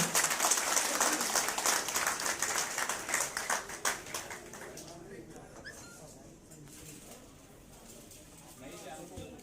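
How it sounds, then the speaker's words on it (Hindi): An audience claps to welcome guests at a felicitation ceremony for newly appointed legislators, with dense, sustained applause at first that thins and fades toward the end, while voices are heard throughout. "सभी अपने स्थान से तालियों के माध्यम से स्वागत करते रहेंगे।"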